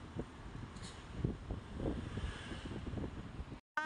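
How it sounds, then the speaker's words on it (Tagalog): Outdoor wind buffets the microphone with a steady, low gusting rush that rises and falls, then cuts out abruptly near the end. "Sarap ng hangin!"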